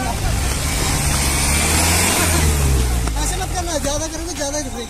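A Mahindra Safari stuck in soft soil off-road, its engine droning and revving loudly and steadily throughout, with voices talking over the motor.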